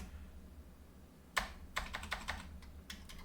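Keystrokes on a computer keyboard while setting up a modem in terminal mode: a burst of sharp, close clicks starting partway through, in uneven clusters over a quiet background hum, with no talking.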